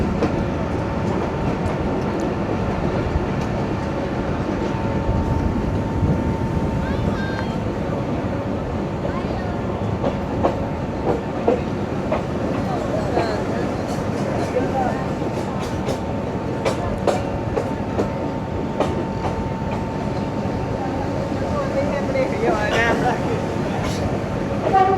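The 206 Down Babu Passenger train runs on the main line at a Pakistani railway station on a rainy early morning. It rumbles and rattles steadily with faint clicks from the track, while a voice talks over it throughout.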